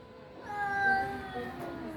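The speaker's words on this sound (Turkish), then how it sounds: "Konuşan kedi." A cat gives one drawn-out, rising-then-falling meow up close, with faint room background.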